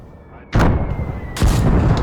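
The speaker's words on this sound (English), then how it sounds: "High explosive anti-tank round." A tank's main gun fires a high-explosive anti-tank round in a World War II battle game, two heavy booming blasts a little under a second apart, loud and close with a rumbling tail.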